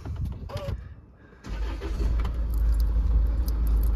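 A Land Rover Freelander 2 with a 2.2 SD4 diesel engine starts up nearby after a jingle of keys and a brief cranking, then settles into a steady, loud idle.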